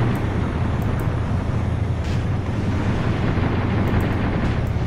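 Continuous heavy battle rumble from gunfire at tanks, including a Centurion, in the PC war game Graviteam Tactics, set in Afghanistan 1980, a dense steady roar of distant shots and engines with no breaks and no speech.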